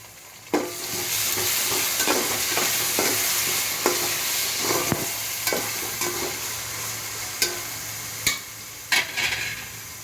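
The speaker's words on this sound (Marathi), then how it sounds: "वालाचे गोळे त्यामध्ये असे मस्त परतून घ्यायचे चांगले शिजवून घ्यायचे" Field bean balls and onions sauté in plenty of oil in a pan, giving a steady close sizzle with scattered scraping clicks of a spoon stirring against the metal.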